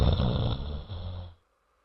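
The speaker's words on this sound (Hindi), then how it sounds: "आराम से खर्राटे मारकर सो रहे थे" A single loud, rumbling snore close by in a Hindi cartoon, a droning breath that cuts off abruptly into silence.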